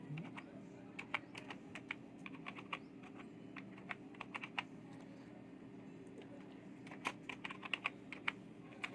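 Rapid, irregular keystrokes as a username and password are typed on a computer keyboard, crisp clicks over a steady low hum, with a brief pause in the middle before the tapping resumes more densely.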